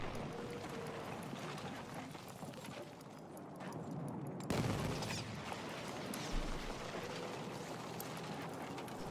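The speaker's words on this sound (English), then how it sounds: "Animosity is going to be rolling the mortar support for his team." Mortar support strikes rain down during an Incursions video game match, heard as distant, fairly quiet booms over a continuous background of battlefield noise, with one heavier impact midway and a low thump later.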